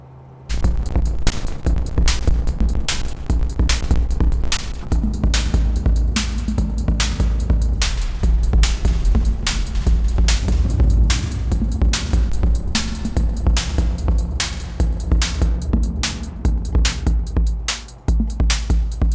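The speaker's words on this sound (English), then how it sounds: "Let's try getting a drum machine in there." A drum machine plays a steady electronic beat with booming kicks and sharp hits, washed in reverb, continuous and loud with no talking.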